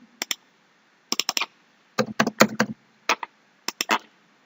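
Short bursts of crisp, close key presses on a computer keyboard as a date is typed, small clusters of clicks separated by brief silences, with no talking.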